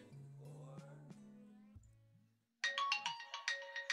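A phone ringtone plays in a home, a melodic series of bright electronic notes starting low and then switching to a higher, rapidly repeating tune.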